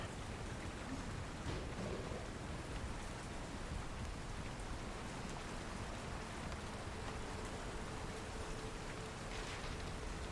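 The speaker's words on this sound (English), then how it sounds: "The rain beating down around you" Dense, steady rain pouring down, a continuous hiss of drops on surfaces with no talking, unchanging throughout.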